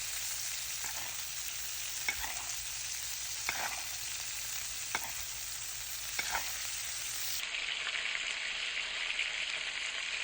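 Steak basting in butter in a hot pan: a continuous close sizzle and crackle with a few spoon clicks, then the frying quiets to a softer hiss near the end.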